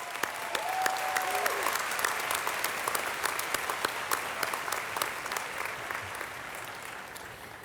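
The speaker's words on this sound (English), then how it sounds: "let's have a round of applause to start this ceremony off for our graduates" A graduation ceremony crowd breaks into sustained applause, a dense, even wash of many hands clapping that holds steady throughout, with a few brief tones near the start and no clear speech.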